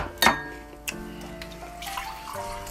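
Water running from a tap into a water bottle, a close, steady trickle and splash with a couple of brief clunks, fairly quiet and alone.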